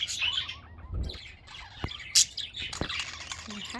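A pet budgie chirps happily indoors in short, bright bursts of tweets, with a few sharper clicks and squawks scattered through the few seconds; a person's voice is faintly present in the background.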